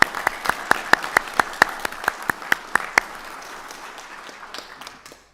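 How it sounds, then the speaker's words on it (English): Applause breaks out at a city Board of Mayor and Aldermen meeting, with a burst of sharp claps that thins out and fades over several seconds in a hall. "Just give him a round of applause."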